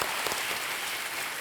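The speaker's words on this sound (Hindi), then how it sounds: "तालियों के साथ अभिनंदन।" A studio audience on a television quiz show applauds with loud, dense, continuous clapping that holds evenly for the whole moment. No voices are heard over it.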